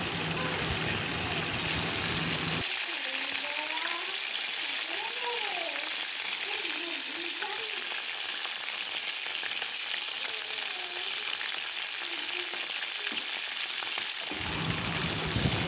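Black cumin (kalonji) and a little sugar sizzling in hot oil in a wok, a steady loud frying hiss throughout, with a voice talking faintly over it in the middle.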